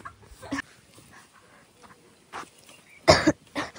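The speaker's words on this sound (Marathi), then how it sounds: "अरे मला खोकला मी तरी काय करू" A person coughs in a few sharp, loud bursts separated by quiet gaps, with one especially heavy cough near the end.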